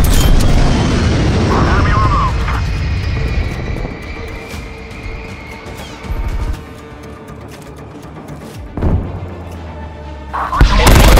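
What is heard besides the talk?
explosions of a ground attack strike in video game Black Ops Cold War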